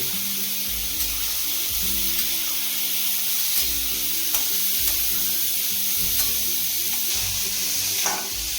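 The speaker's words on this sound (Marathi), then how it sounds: "आपण हे उकडलेले हरभरे त्याच्यात टाकू आणि परतून घेऊ" Boiled chickpeas sautéed with salt and red chilli powder in a pan, giving a steady close sizzle and hiss with occasional soft stirring clicks, no voices.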